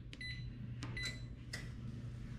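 An oven's control panel beeps while the temperature is set, three short electronic beeps spaced about half a second to a second apart, close and clear over a low kitchen hum.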